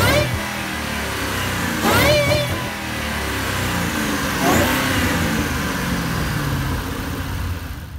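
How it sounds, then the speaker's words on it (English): A supercharged V8 of a 2011 Ford Shelby GT500 idles with a deep rumble, revving sharply twice in quick bursts before settling back. "It's a supercharged V8 putting out over 500 horsepower."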